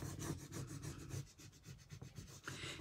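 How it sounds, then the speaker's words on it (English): A bird transfer is rubbed onto a wooden porch leaner in quick, repeated back-and-forth rasping strokes, close and faint, with a rhythmic scratchy texture. "And you just have to rub and rub and rub"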